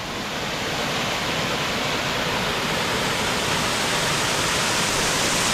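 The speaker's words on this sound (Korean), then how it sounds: "네, 여기가 첫 번째 폭포입니다." A waterfall swollen by heavy rain in a mountain valley roars in a dense, unbroken rush of white noise, loud and close, with no voices.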